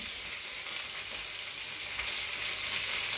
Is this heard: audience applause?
no